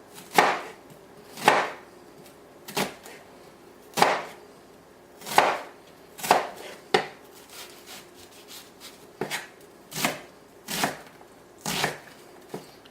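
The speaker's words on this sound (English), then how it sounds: "You can cut this onion up" An onion being chopped with a knife on a cutting board for beef stew, a dozen or so separate close thuds at an uneven, unhurried pace with quiet pauses between cuts and no voices.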